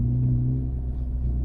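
Engine of a manual-transmission car rumbling low and steady from inside the cabin during a gear change, a brief, even drone without obvious revving.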